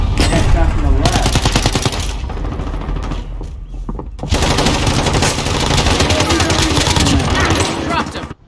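Dense, rapid automatic gunfire from Call of Duty Warzone plays loud and close in long bursts with a short lull in the middle, and a voice talks over the shooting.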